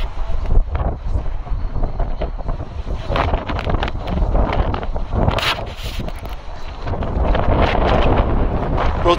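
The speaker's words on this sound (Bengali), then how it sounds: "প্রচুর বাতাস" Strong gusty wind buffets the microphone beside a river, a loud continuous rush that swells and dips throughout.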